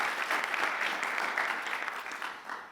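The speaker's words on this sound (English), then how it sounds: "let's give a round of applause" Applause from an audience at a school spoken word event, steady clapping filling the room at moderate loudness for the whole stretch, easing slightly toward the end.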